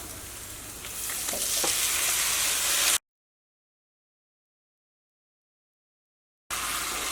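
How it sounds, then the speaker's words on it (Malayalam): Tomatoes added to the same pan that just fried sardines, sizzling and frying steadily with a loud broadband hiss for about three seconds, then a gap of silence before the sizzle resumes. "ഇനി ഇതിലേക്ക് നമ്മൾ തക്കാളി ചേർക്കാണ്"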